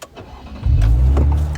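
Sports car engine starting as a livestream gift sound effect: a brief click, then a sudden low engine roar catching and holding loudly before easing slightly, with no voices.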